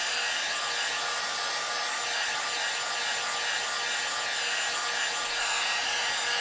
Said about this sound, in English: Remember, always moving the heat gun